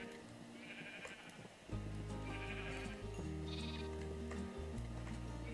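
Sheep in a video game world bleat repeatedly, clear wavering calls over a steady game background hum, close and prominent with no talk over them.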